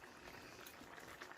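Coconut curry chicken at a rolling boil in a pot, a steady close bubbling and seething hiss that stays even and fairly quiet throughout, with no talk.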